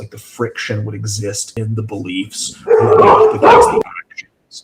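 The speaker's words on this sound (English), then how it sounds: "Pardon the dogs as they bark in the background." Dogs bark in the background during an indoor conversation, their barks faint and intermittent beneath steady close speech from a man.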